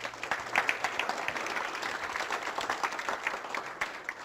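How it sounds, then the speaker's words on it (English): An audience claps after a hypnosis demonstration, a steady patter of applause from a modest crowd, moderately loud and sustained throughout. "Give a nice round of applause."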